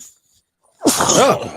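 A single sharp sneeze bursts out loud and close after near silence, trailing off quickly.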